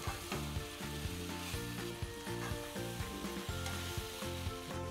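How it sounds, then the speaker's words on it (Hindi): Spiced soya keema for street-style keema pav roasts over high heat in a pan, a loud continuous sizzle running over a steady rhythmic background beat. "आँच तेज करके अब सोए की बुनाई होगी।"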